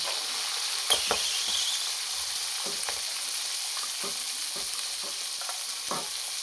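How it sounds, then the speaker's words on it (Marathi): Green peas frying in a pan while being prepared for pasta, giving a bright, dense sizzle that runs steadily throughout, with occasional soft taps and scrapes of stirring, close and fairly loud. "हा हिरवा वाटाणा एक फ्राय करून घेऊया थोडंसं म्हणजे याची चव वाढेल"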